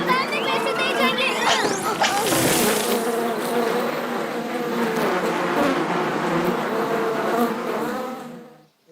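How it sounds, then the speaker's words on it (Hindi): Bees in a Hindi cartoon drone in a dense, steady buzz that fills the whole stretch, with swooping passes and cartoon voices talking underneath. "मधुमक्खी, ये कहाँ से आ गई?"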